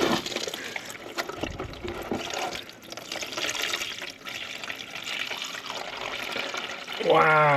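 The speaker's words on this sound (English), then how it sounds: "this doesn't just shoot water out" Water gushes and trickles steadily as it drains from a 1972 Allis Chalmers M65 road grader, with a continuous splashing flow and someone talking over it.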